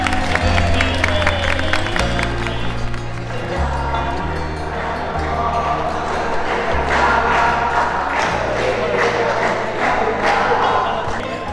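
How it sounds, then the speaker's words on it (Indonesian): An audience in a crowded room applauds and cheers, producing a loud, dense patter of clapping mixed with shouts, while a low rhythmic music or drum beat pulses underneath. "Tepuk tangan dong."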